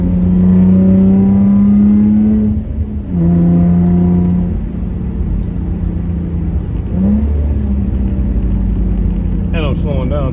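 Manual car engine revving during rev-matched downshifts, a steady engine drone broken by quick throttle blips and dips in pitch, loud and close.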